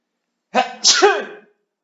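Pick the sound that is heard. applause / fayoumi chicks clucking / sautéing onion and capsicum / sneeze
sneeze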